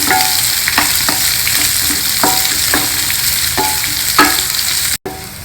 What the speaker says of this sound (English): Next, add in one onion sliced like this. Saute the onion.